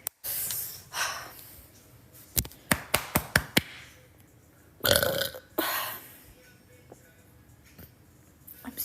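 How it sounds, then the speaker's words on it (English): After drinking carbonated drinks, a woman lets out a loud, solid burp up close, surrounded by breaths, sharp clicks and taps, and a few snorting gasps in a quiet room. "That was a solid burp."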